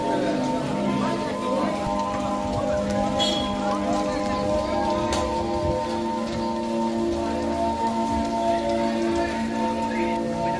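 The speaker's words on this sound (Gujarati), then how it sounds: "વરસાદનું સાઉન્ડ બહુ જબરજસ્ત છે" Steady monsoon rain falls continuously at the Uncha Kotda Chamunda Maa temple, among shops, a dense wash of patter with a few sharper knocks, and faint voices murmur underneath.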